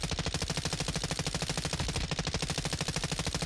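Enemy gunfire in the video game Black Ops 6: loud, rapid automatic fire in a steady, continuous rattle of evenly spaced shots, with no voices.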